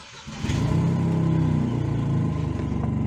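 A car engine cranks and catches, then settles into a steady low idle with a slight rhythmic pulsing, close and alone. The engine has a problem with shaking and sputtering.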